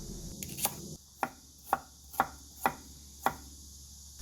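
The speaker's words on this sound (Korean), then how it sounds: "대파 한 대와 생강을 조금 썰어줍니다." Six sharp knife chops through green onion and ginger on a cutting board, evenly spaced about half a second apart, close and distinct against a quiet background.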